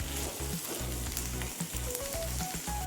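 Curry leaves sautéing in a pan for a curry leaf chutney, a loud close crackling sizzle with rhythmic thumps and scrapes as they are stirred.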